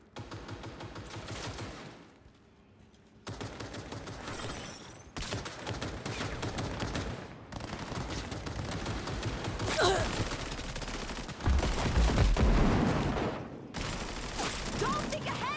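Heavy artillery and rapid gunfire in the Cyberpunk video game finale, sustained bursts and booms that drop out briefly and return, with voices talking amid the fight.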